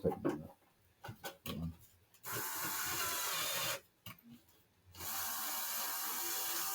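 A power driver threads a screw into a 3D printed plastic generator rotor in two sustained whirring bursts. Short scraping and handling knocks come before the bursts and between them.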